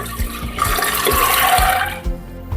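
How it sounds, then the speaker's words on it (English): Soaked chana and water poured from a container into a pressure cooker make a loud, close splashing gush with some knocking at the start, easing off toward the end. "I'm going to pour everything in a cooker."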